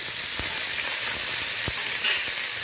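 Half-slit green chillies, onion and tomato sizzle steadily in hot oil after the spices crackle, a dense continuous frying hiss with a few soft stirring knocks, close and alone.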